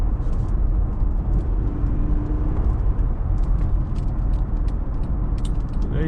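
Steady, loud low rumble and road roar from inside a 2010 Acura TL cruising in regular drive mode, with continuous engine and tire noise and light rattles throughout.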